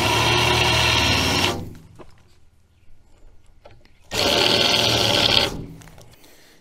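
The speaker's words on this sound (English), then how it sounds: "I'm going to take a larger drill bit and open those holes up just a little bit" Two loud bursts of a power drill whirring, each about a second and a half, separated by a quiet pause with faint handling noises, as a larger bit widens screw holes into countersinks while installing an anchor winch on a 16 ft boat.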